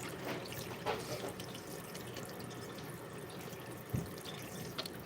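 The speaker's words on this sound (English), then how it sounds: "Yes, I'm washing my hands again." Hands being washed under a running sink tap in a kitchen, a steady soft stream of water throughout with a few faint clinks and splashes, fairly quiet and not close.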